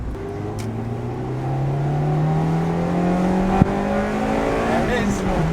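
A Honda Integra Type R engine pulls steadily higher in pitch as it climbs into VTEC, loud and close, with one brief click partway through.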